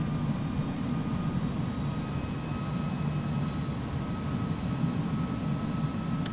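An iniBuilds A300 in X-Plane 11 rolls out after landing, a steady broad engine and airframe roar filling the cabin as it decelerates, with a faint tonal whine above and no voices.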